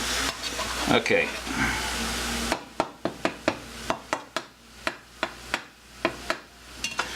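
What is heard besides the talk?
frozen meat browning in a pan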